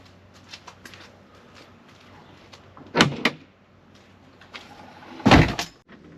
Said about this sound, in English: And then we'll close the door on it.